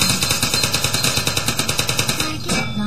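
Rapid automatic turret gunfire in the video game Portal, a steady stream of sharp shots at an even, quick rhythm, close and loud, cutting off near the end.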